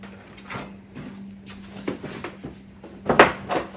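Scattered plastic clicks and small clunks come from a wire connector being pried loose behind the grille of a Toyota GR Corolla. A sharper snap lands near the end, over a low steady hum, with no talking.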